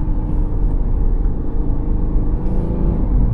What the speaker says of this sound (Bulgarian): И автомобила вече става жив. Просто почва да пърка.